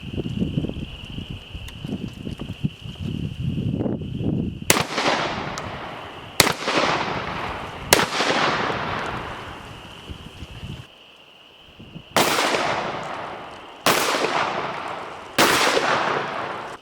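A Mossberg 940 Pro Tactical SPX semi-auto shotgun fires target loads, buckshot and slugs at 20 yards: six sharp, loud blasts spaced a second or two apart, each with a ringing outdoor tail, after some low rustling and handling noise.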